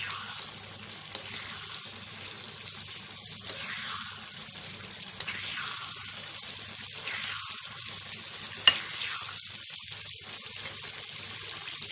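Oil sizzles and crackles steadily in a pan while frying citron pickle, a constant hiss with occasional soft pops and clinks from stirring, close up and without voices.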